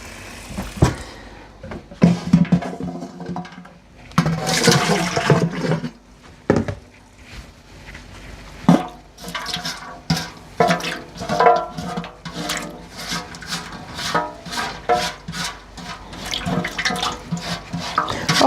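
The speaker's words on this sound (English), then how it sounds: "Now I gotta get some water to wash out this pot." Water runs from a kitchen tap to rinse out a pot with beans stuck to its sides and bottom, heard in on-and-off gushes and splashes with clattering handling of the pot between bursts.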